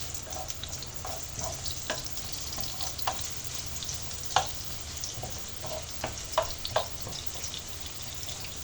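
Onions fry in a pan for an eggplant stir fry, a steady crackling sizzle broken by scattered sharper pops and stirring clicks, with no talking.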